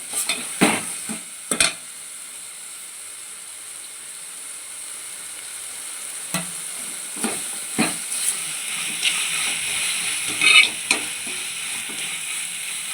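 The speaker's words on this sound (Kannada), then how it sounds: "ಟೊಮೊಟೊ ಚೆನ್ನಾಗಿ ಬೆಂದು ಸ್ಮ್ಯಾಶ್ ಆಗಬೇಕು. ಚೆನ್ನಾಗಿ ಅಲ್ಲಿವರೆಗೂ ಹುರ್ಕೊತೀನಿ." Tomato and onion fry for palak dal under a continuous hissing sizzle. Scattered stirring knocks and scrapes sound close by at irregular intervals.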